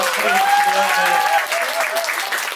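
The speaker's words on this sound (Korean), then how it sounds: "다시 한번 두분 네, 축하 박수 주세요" Congratulatory applause from a fan-meeting audience for a couple after a proposal event, a steady dense clapping wash with a sustained music tone and faint voices mixed in underneath.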